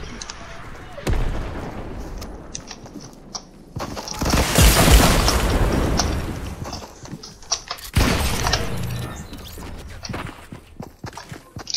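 Rocket launcher blasts in Fortnite, with heavy booming explosions and rumbling debris, loud and close, mixed with scattered game effects.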